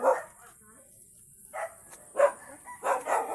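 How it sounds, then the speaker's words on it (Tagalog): A dog barks in short bursts nearby outdoors near rice fields, several separate woofs spaced irregularly with quiet gaps between. "Aso dito, may aso."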